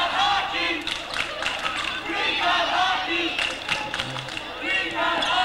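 A high school crowd roars during a North Farmington vs West Bloomfield district basketball game, loud and continuous with shouts, scattered voices and a brief low thud mixed into the din.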